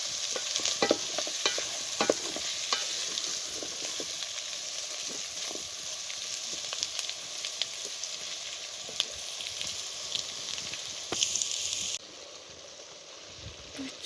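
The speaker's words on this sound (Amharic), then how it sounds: "ውዶቼ ቀይ ስራችንን እንግዲህ ማጥበስ አለብን።" Red stew fries in a pan with a continuous close hiss and sizzle, punctuated by frequent scraping stirs, before dropping to a quieter simmer near the end.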